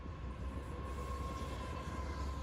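A container train more than 15,000 feet long rolls steadily past, giving a continuous low rumble of wheels on rail with a faint steady squeal above it and no voices.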